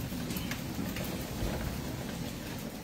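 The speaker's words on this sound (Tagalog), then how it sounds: "Walang tigil ang ulan talaga." Heavy rain falls without a break, a dense, loud and steady roar close by, with no voices.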